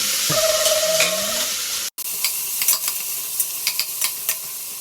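Large onions sizzle and fry in a pan, a steady loud hiss with a brief dropout, followed by repeated clinks and scrapes of stirring against the pan.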